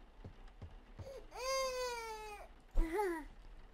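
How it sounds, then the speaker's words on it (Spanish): A cat meows twice in The Baby in Yellow game, first a long drawn-out whining cry and then a shorter rising meow after a brief pause, close and clear. "¡Otro gato!"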